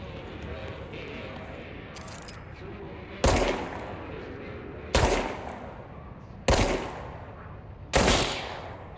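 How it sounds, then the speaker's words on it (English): Four sharp gunshots in the video game Control ring out at roughly steady intervals over a continuous ambient bed, each blast loud with a short decaying tail. "More shots."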